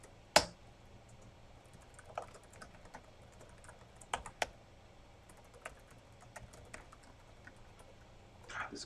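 Typing on a computer keyboard during a live coding session, with sparse, quiet key clicks and a few sharper taps scattered irregularly over a faint background, and no talk.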